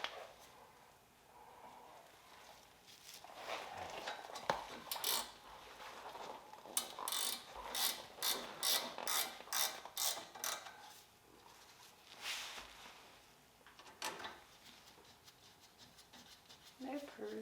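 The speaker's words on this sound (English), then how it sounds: "Hand me my ratchet wrench." A ratchet wrench works on a car during assembly, making quiet, rapid clicking bursts in short runs, with softer rubbing and handling noises around them in a garage.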